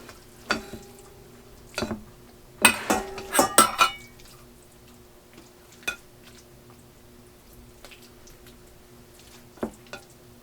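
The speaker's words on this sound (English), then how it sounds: "I'm just kind of stirring it up a little bit" Homemade pumpkin puree stirred in a pot with a utensil, producing scattered clinks and scrapes, including a quick cluster of knocks early on and then sparse taps, close and fairly quiet against a faint kitchen hum.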